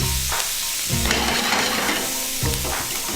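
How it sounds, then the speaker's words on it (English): Shallots fry in a hot pan with a steady, close sizzle, broken by a few short bursts of scraping and stirring, and no talking. "Shallots cooking nicely."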